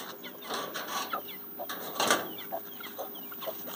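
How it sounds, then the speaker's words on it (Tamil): Native country hens and chicks in an open grove coop cluck and peep in short, repeated bursts, close and moderately loud, with a few sharper calls among the steady chatter. "இந்த ரேக்கில் இந்த குஞ்சை எல்லா குஞ்சும் சேர்ந்து கொத்திடுதுங்க"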